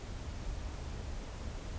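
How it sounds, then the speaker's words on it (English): A massive waterfall in the video game Blue Prince gives a faint, even rushing hiss that stays steady throughout with no voices over it. "That's a massive waterfall."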